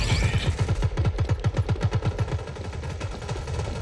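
Rapid automatic gunfire in the Rogue Company shooter game, a steady burst of evenly spaced shots lasting several seconds and fading slightly toward the end, with no talk over it.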